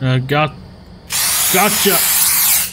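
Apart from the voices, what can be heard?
spraying rats with a spray can in a video game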